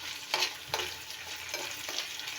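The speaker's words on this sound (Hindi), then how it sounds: "आलू को अच्छे से फ्राई करना है।" Potatoes frying in oil in a home kitchen pan, giving a steady sizzle broken by a few brief bursts of stirring or scraping, close up and alone with no voices.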